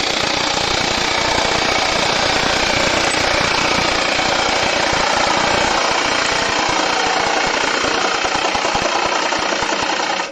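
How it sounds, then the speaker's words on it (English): A skew chisel held as a negative-rake scraper cuts a wood spigot on a lathe, giving a loud, steady, harsh chattering roar that runs unbroken throughout. "I literally use a skew as a scraper, negative brake scraper, and I literally start the cut"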